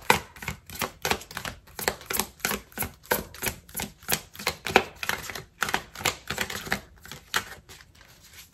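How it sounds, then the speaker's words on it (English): Tarot cards are shuffled and let fall, giving a rapid, regular run of crisp snapping flicks and soft slaps, close and steady throughout, with no speech. "So I'm just letting the cards fall."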